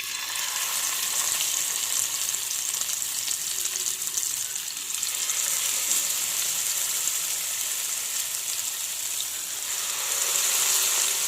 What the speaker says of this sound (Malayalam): ഇനി ഇതിലേക്ക് ഈ മീൻ ഓരോന്ന് വീതം ചേർത്ത് കൊടുക്കാം.